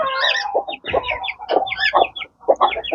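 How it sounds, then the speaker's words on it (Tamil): Chickens at a poultry farm cluck repeatedly in short, irregular bursts, close and loud, with no talking. "இதுக்குள்ளேயும் ஒரு கோழி இருக்கு"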